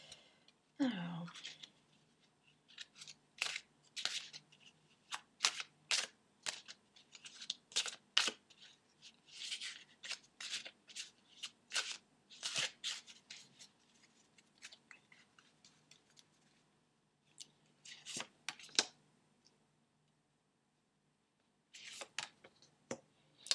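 Oracle cards shuffled by hand for a tarot-style reading, a string of short, crisp riffling bursts with brief pauses between them, close and fairly quiet, with a longer gap near the end.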